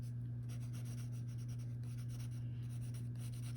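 A colored pencil shades on paper with a soft, steady scratching that sits beneath a constant low electrical hum.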